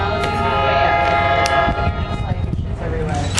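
A Metro-North Port Jervis Line train rumbles nearby with a steady tonal drone and low rolling throughout, while people talk over it.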